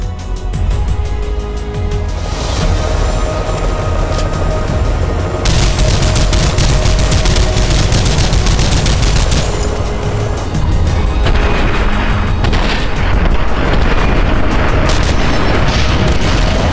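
Grenade launcher fire in The Matrix: Path of Neo, heard as loud, continuous explosive booms and rattling gunfire packed into a dense, unbroken battle roar with no pauses.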